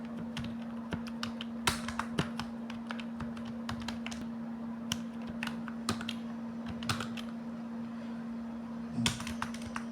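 Computer keyboard being typed on while writing code, an uneven run of close, crisp key clicks over a steady electrical hum, with no voice.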